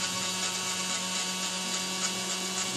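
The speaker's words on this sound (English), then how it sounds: "taking that burr and just kind of bumping it right across that crag, giving it some nice texture there" A rotary burr tool grinds steadily across freshly applied body filler on a grungy restoration piece, giving a continuous high buzzing whine that holds even and close throughout with no talking.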